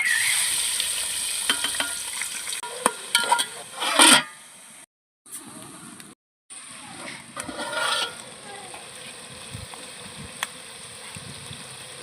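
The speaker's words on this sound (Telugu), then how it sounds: "నూనె అయితే వేడెక్కిపోయిందండి. అన్ని ఉల్లిపాయలు వేసేసుకోవాలి." Onions fry in hot oil in a wok, with a crackling sizzle broken by stirring and scraping, a couple of brief silent gaps, and occasional louder bursts.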